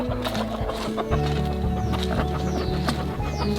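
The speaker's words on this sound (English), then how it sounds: "We're now over in the bantam flock. That's our small chickens, and got about 25 chickens in here." A flock of about 25 small bantam chickens clucks and chatters continuously and close by, with overlapping calls and a steady low farmyard background throughout.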